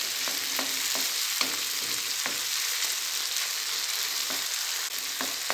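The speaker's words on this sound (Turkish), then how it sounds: "Tekrardan şöyle bir salçamızla soğanlarımızı kavuralım." Onions and tomato paste sizzle steadily in a pan while cooking a leek börek filling, with a few soft stirring scrapes and no talking.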